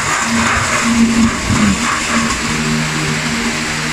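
An Asahi stand fan that has been knocked over runs with a steady, loud motor hum and a shifting rattling vibration, with no voices.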